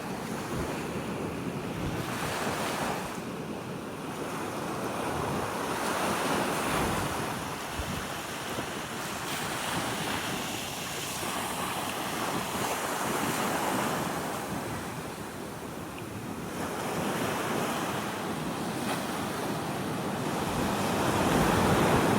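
Waves roll in at a seashore under gusty wind, a continuous roar of surf that swells and ebbs in slow surges while wind buffets the microphone, with no voices.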